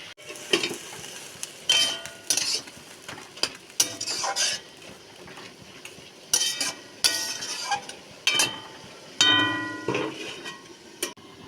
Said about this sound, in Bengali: এবার আমি একটু নাড়াচাড়া করবো একটুখানি কষে তারপরে আমি ঢাকা দিয়ে দেবো